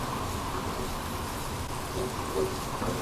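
Steady rain falls outdoors during cooking, a continuous even hiss of drops filling the whole clip with no voices.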